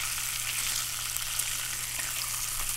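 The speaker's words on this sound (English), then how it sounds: "Oh, listen to that sizzle." Steady, dense sizzling and crackling of bacon frying in a pan while camping, loud and close, with a constant low hum underneath and no talking.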